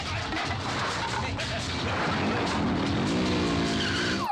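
A car skids with a rising tire squeal during a chase scene in a Hindi-dubbed South Indian action movie, loud over a dense roar of engine and traffic noise.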